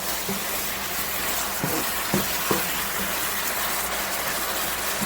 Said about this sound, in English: Let's stir this around.